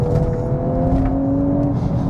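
A 2021 VW Golf R Mk 8 engine pulls hard at full throttle, a loud steady drone with rising tones, heard close from inside the car.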